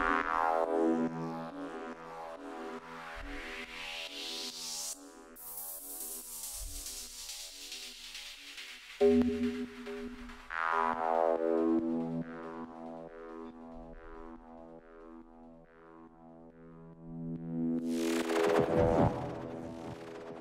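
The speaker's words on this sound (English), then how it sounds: "this is a very squelch based sound with the bandpass filter on top of a saw" Squelchy synth effects made from a saw wave through a bandpass filter, sweeping up and down in throbbing, resonant bursts with sudden swooshes and drops, played alone at moderate level.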